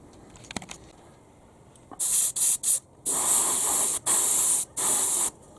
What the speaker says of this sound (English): Next we're going to spray the jet exhaust